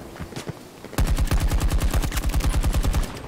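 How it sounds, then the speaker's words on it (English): Automatic gunfire in Battlefield 2042, a few muffled shots and then a loud, rapid, unbroken burst of close machine-gun fire lasting over two seconds. "Who's shooting at me?"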